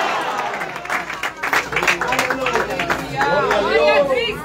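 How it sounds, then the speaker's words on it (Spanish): Applause from a church congregation fills the space, a dense wash of clapping mixed with crowd chatter and voices, with a singing or speaking voice rising over it toward the end. "Un aplauso fuerte al Señor"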